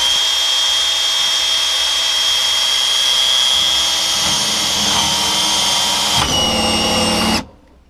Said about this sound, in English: I need to drill into here.